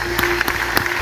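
A congregation claps at a funeral service for Pastor Alberto Rocha, sharp rhythmic claps landing in an even beat over a sustained musical tone.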